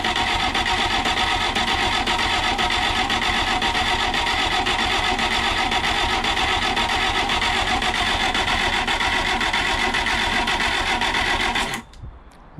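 The fuel pump on a 1969 Reliant Regal runs while filling the carburettor, giving a fast, steady mechanical ticking buzz for about twelve seconds before it cuts off abruptly.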